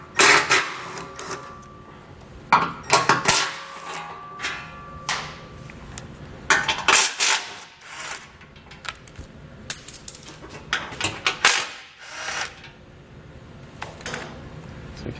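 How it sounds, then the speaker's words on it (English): Removing 15mm skid plate bolts beneath a 2020 vehicle: a close, irregular series of metallic clicks, clinks and ratcheting taps with short pauses, and a sharp clatter of metal parts around the middle, with no talking. "we need to remove our skid plate, give us some more room to work, and that's going to be held in place by 4 15mm bolts"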